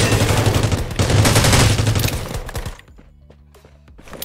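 Rapid automatic gunfire crackles in dense bursts during a Rules of Survival battle-royale match, then thins to a few scattered, quieter shots with light game ambience.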